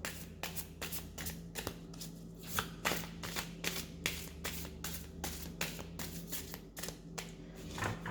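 Shadowland Tarot cards riffled and shuffled by hand, a quick run of crisp papery flutters and snaps repeating steadily and close, under a faint low hum.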